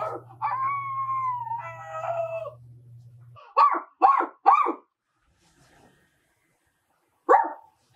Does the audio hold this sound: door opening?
no